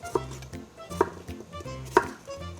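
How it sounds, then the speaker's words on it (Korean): Knife dicing a potato on a cutting board, three sharp, close chops spaced about a second apart with quiet scraping in between. "깍둑 썰어 준비할게요"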